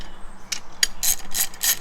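Ratchet with a 9/16 socket running 3/8 bolts onto a KMC KM237 beadlock ring, several quick close clicking bursts in an uneven rhythm.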